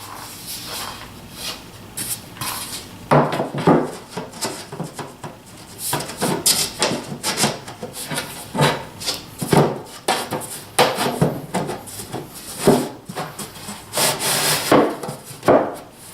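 Wooden sliding doors are fitted into an angled cabinet. A close run of scraping, rubbing wood and light knocks repeats unevenly throughout, with no talking.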